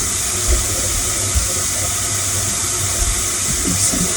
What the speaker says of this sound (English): So, we are going to wet my face real quick.